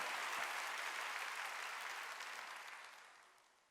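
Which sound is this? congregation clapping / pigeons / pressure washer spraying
congregation clapping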